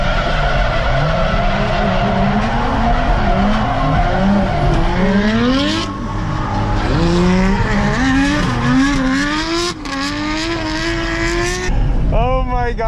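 Low-horsepower cars drifting at Ebisu Circuit during Drift Matsuri in Japan, engines rising and falling through repeated revving pulls amid loud sustained tire squeal, nearby and dense, ending with a sharp rising rev.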